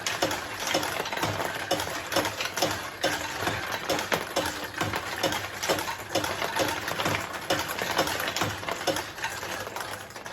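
Steel balls rattling through a 1973 Nishijin Model A pachinko machine, a dense, steady mechanical clatter of rapid metallic ticks and whirring, close and continuous with no voices.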